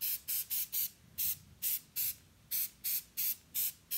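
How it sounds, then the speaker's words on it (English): A series of short, sharp aerosol spray bursts onto the foliage of a miniature terrain pine tree, about nine quick hisses in fairly regular rhythm, close and moderately loud with brief pauses between. "you only need maybe one light spray"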